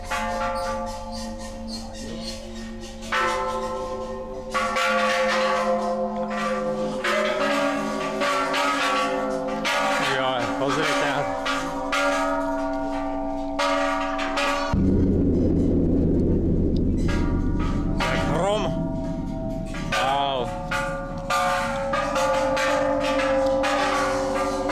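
Large temple bells struck at the Grand Palace in Bangkok ring out in a series of loud, sustained metallic tones that overlap and decay slowly, with a deeper booming strike midway and people talking faintly around them.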